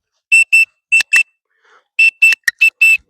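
Sharp, shrill dog-training recall whistle blasts in quick pairs and bursts, close and loud, about nine short toots with brief gaps, used up close with a puppy indoors.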